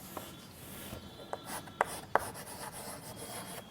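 A teacher writes a maths word problem for a class, faint scratchy strokes and sharp taps of writing on a board in an irregular rhythm, quiet and alone.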